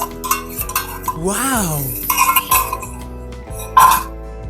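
Egg being scrambled and fried in a little oil in a pan, with a spatula scraping and clinking against the metal in irregular strokes over background music.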